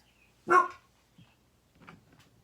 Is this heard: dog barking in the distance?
yes